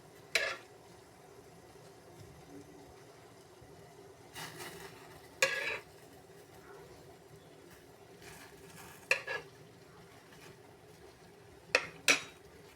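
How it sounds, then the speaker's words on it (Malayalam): Hibiscus petals are stirred in a pot of boiling water, a faint simmer broken by a few scattered scrapes and clinks of a spoon against the pot. "നമുക്കിനി ഇതൊന്ന് ഇളക്കി കൊടുക്കാം."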